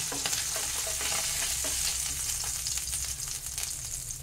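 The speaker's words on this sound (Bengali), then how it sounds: "এই মাছটাকে আমি বেশি কড়কড়া করে ভাজবো না, এটাকে হালকা ভেজে নেব" Bata fish frying lightly in hot mustard oil in a pan gives a steady, close, crackling sizzle that runs without a break, with faint scraping from stirring.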